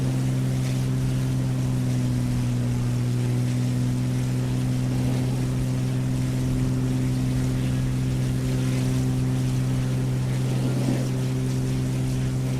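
Aircraft engine held at full throttle in Microsoft Flight Simulator, a steady loud droning hum with strong low harmonics that continues unbroken for the whole stretch, with no voices over it.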